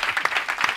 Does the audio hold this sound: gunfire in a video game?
no